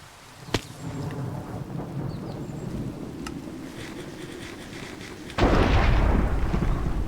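Thunder rolling in a Minecraft world during the Enigmatica 8 modpack, a low rumbling that builds and then breaks into a loud, broad crack and roar near the end, with a sharp snap early on.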